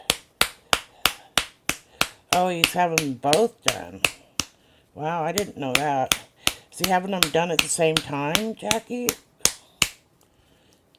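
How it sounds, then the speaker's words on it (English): Sharp, evenly spaced taps of a cigarette pack being packed against a hand, about a dozen loud close smacks continuing through a woman's phone conversation and ending alone. "I'm not clapping. I'm packing my cigarettes."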